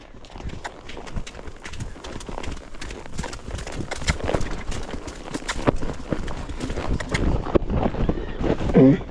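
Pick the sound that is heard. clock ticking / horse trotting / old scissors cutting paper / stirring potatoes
horse trotting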